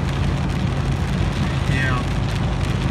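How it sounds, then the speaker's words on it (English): Heavy storm rain pelting steadily on a vehicle during a roadside stop, a dense continuous hiss with low rumble throughout, close and loud. "as soon as this rain stops"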